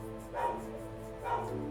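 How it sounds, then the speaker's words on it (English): Pet dogs bark twice in the background, muffled and a little distant, spaced about a second apart over a steady low hum. "Sorry if you can hear my dogs in the background."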